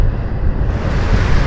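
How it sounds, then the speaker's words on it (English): Open-ocean waves roll past a sailboat on a passage from Panama to the Galapagos in easing seas, giving a loud, steady wash of surf and water mixed with wind buffeting the microphone, with no voices. "The ocean has calmed down a little bit more now. The waves aren't as big. Still some big ones in there though."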